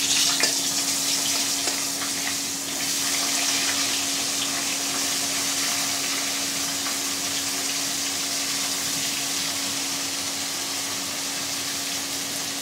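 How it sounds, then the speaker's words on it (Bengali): Eggplant fries in oil in a pan with a steady, soft sizzle at close range that continues evenly throughout, with no talking. "আলাদা করে বেগুনটা ভাজবো"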